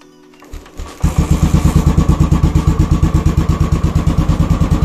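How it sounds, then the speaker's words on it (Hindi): A Royal Enfield Bullet motorcycle cranks with a few sputters and then fires up, settling into a loud, close, steady thumping idle with an even, rapid beat. "तो बुलेट होगी फाइनल स्टार्ट,"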